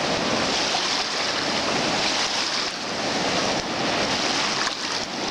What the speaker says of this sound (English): You can really hear the water.